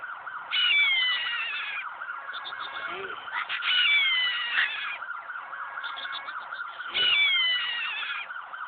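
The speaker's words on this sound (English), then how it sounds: "Police car." A police car siren in a children's car game wails in bright, repeating rising-and-falling cycles, loud and clear with nothing else behind it.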